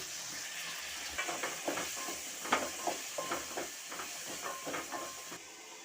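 Indian gooseberry pickle cooks in a pan, giving a steady close hiss and sizzle with soft, irregular bubbling pops and stirring clicks throughout. It is moderately quiet and plays alone, with no talk.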